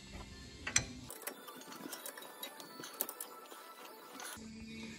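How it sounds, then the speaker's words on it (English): Box end wrench tightening bolts on a car's brake assembly, giving a string of close, crisp metallic ratcheting clicks and small clanks with no talking. "now I'm just going to tighten them up with my box end wrench"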